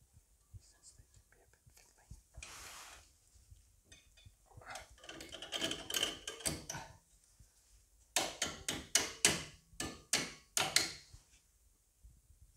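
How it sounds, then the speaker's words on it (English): Small metal brake pad clip on a Ford SportKA's front brakes being worked into place with pliers: quiet scattered clicks and scrapes, then a run of sharper metallic taps and snaps, with faint whispering. "It's just time to put this little clip on."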